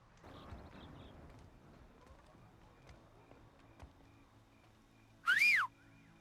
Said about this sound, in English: So what are we whistling for?